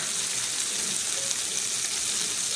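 Butter sizzles loudly in a hot cast iron muffin pan, a dense, even hiss up close that holds steady with no pauses and no talk.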